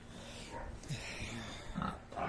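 Piglets about 35 days old grunting in a whitewashed, disinfected pen, several short close oinks and snorts scattered over steady barn noise, with faint talk nearby.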